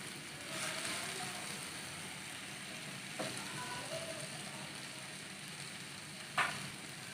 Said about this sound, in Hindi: प्याज को भी 2 से 3 मिनट तक फ्राई करेंगे। बंद गोभी डालेंगे 1 कप।